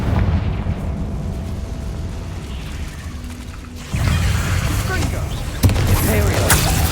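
Fiery Confringo spell blasts in the Hogwarts Legacy video game: dense rumbling combat noise that jumps into a loud burst partway through, then a second sharp crack of explosion near the end, with crackling debris and busy game sound throughout.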